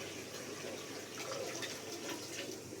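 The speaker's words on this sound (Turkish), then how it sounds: "Şimdi de bu akşam yine su ekliyorum." Fresh tap water is added to a home aquarium, a close, steady trickling and splashing pour lasting a few seconds without any voices.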